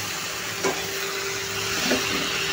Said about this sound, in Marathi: अशी मिक्स करून घ्यायची आहे भाजी